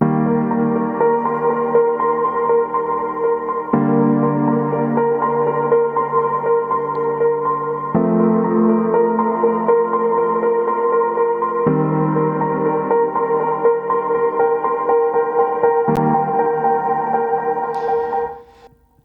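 Two layered pianos, one with delay and one without, play sustained harmony chords in an organic house track, changing chord every few seconds, steady and alone.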